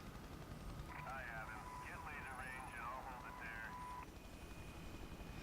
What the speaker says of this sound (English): that helicopter appeared out of nowhere.